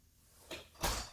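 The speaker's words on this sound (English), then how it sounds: "Door closed." A door closes while a Frontpoint home alarm's door sensor is tested indoors, giving two soft, close thuds about a third of a second apart, the second heavier, with no talking.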